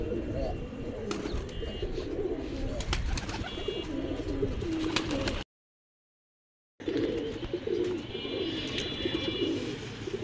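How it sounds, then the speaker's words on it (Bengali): Pigeons, local Rajshahi Giribaj mixed with some Kaldom and Pakistani birds, coo and call across a rooftop pigeon farm, a steady close chorus broken by a short silent gap, with faint chirps and wing sounds mixed in. "কবুতরগুলো একদম ছড়াই ছিটায় আছে পুরো ছাদ"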